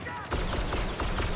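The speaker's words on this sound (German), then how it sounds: "Aber der Typ schießt sich da gerade noch wund." Gunfire in Star Wars Battlefront 2 during an assault on Crait, a steady run of blaster shots under constant game noise, moderately loud with short pulsing bursts.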